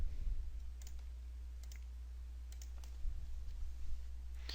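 A few soft computer mouse clicks while drawing in SolidWorks, quiet and sparse over a low steady hum.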